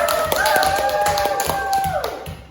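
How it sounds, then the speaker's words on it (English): Students clap together in a classroom, quick overlapping claps for a couple of seconds under a sustained tone and some voices, ending as it fades. "give applause for us!"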